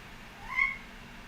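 A cat lets out a single short meow in a quiet indoor room, a brief mid-pitched call standing alone against faint background hiss.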